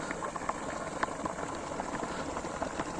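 Quicklime slaking in a plastic bucket of water gives off a steady, boiling-like hiss with scattered small pops and crackles, moderately loud and continuous, with no talking.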